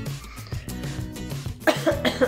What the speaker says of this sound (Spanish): Perdón, pero todavía tengo tos.